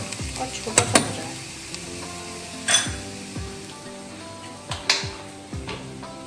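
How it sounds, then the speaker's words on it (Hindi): Onions browning in a pan for corn kababs, a steady close sizzle under repeated stirring, with a few sharp clinks of the utensil against the pan and no talking. "मेरा प्याज तो यहाँ पर ब्राउन हो रहा है, इसको मैं थोड़ा सा और ब्राउन करूँगी"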